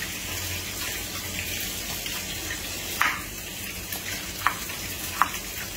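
Potatoes seasoned with turmeric and salt fry in a pan, producing a steady mid-level sizzle with a few brief clinks or stirring taps near the end, no talking.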